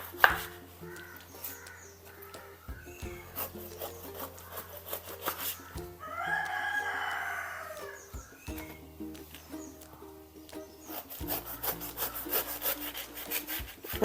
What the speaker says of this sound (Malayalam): നമുക്ക് ഇതേപോലെ തൊലി ചെത്തിയെടുക്കാം